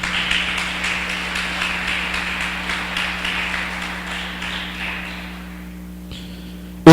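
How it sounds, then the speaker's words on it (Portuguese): Church congregation clapping together after a call to praise, a rhythmic patter of many hands over a steady electrical hum, fading out over several seconds before a sharp knock at the end. "Aplauda Jesus então."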